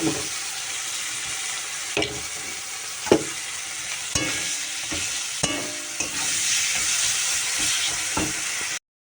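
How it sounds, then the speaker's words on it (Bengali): Turmeric, chili powder and spices sauté in a pan with a steady broadband sizzle, broken by several sharp clinks and scrapes of stirring, with no talking. "পরিমাণ মতো হলুদ দিয়ে দিয়েছি লঙ্কার গুঁড়ো দিয়ে দিয়েছি এবার আমি এটাকে কষছি"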